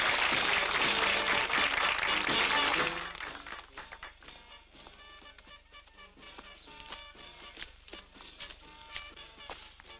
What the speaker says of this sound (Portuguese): Palmas para o jovem.